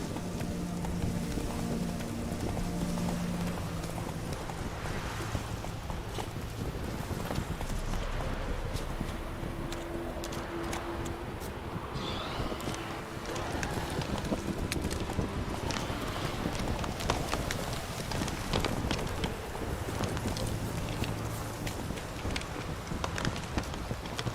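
Roach, the horse in The Witcher 3, gallops in a steady, fast clip-clop of hooves under a thick, continuous bed of ambient game noise and rain-like hiss, with no talk.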